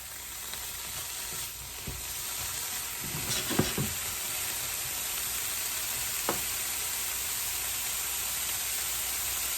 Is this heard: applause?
no